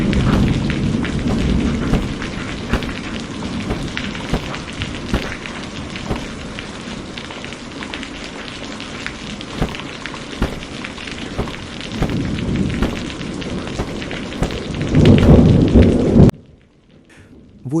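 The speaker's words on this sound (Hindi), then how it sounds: "तूफान तो मेरी सोच से भी ज्यादा खतरनाक हो गया है।" Heavy thunderstorm in an animated short, with dense rain roaring steadily and low thunder rumbles swelling throughout, growing louder near the end before cutting off abruptly; no one speaks.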